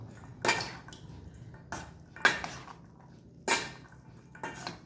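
A spoon clatters against a bowl while soybean salad is mixed, giving five or six distinct clinks and scrapes spaced unevenly, close and fairly quiet, with no talking.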